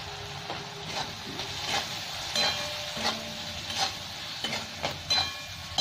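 Spice powders (coriander, cumin and Kashmiri chilli) fry with a splash of water in a pan, giving a steady sizzle broken by scraping stirs of a spatula at a fairly even rhythm, close and moderately loud.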